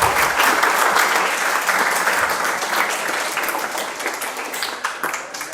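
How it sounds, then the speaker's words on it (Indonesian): Audience applause at an Islamic community talk, a full steady burst of many hands clapping that gradually tapers off, close and loud. "tepuk tangan buat Nafisa"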